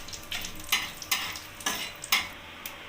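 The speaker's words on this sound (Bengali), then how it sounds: "এবার আমি ফোড়নটাকে সুন্দর করে ভেজে নেব।" Whole spices, bay leaf, cardamom and cumin, frying in hot oil for tempering, a light sizzle broken by rhythmic stirring scrapes about every half second.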